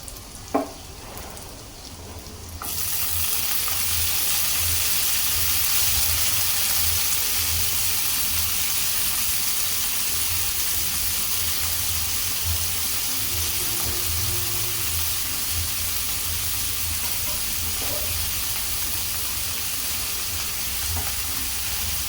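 After a brief clatter, a steady, loud sizzle of chicken and vegetables frying in a pan starts and continues evenly, with occasional faint stirring sounds and no talking.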